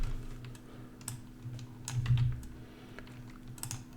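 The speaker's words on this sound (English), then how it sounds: "let's type in something like office location" Typing on a computer keyboard while entering text on a website contact page: quick, light, irregular key clicks close to the microphone over a low steady hum, with no talk.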